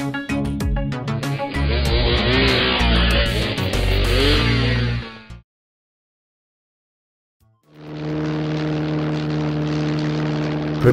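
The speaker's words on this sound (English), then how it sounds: "Propeller plane." A propeller plane's engine roars loudly, falls to silence for about two seconds, then returns as a steadier buzzing hum.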